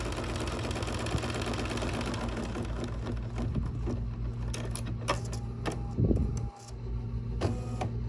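Machine stitching through fabric held firm by stabilizer, likely an embroidery machine, runs as a steady mechanical hum with rapid clicking throughout, briefly shifting mid-way before resuming.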